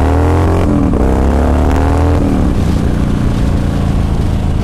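A Yamaha Raider cruiser motorcycle revs hard, its engine rising in a loud, close roar, dipping briefly, then climbing again into a sustained deep drone.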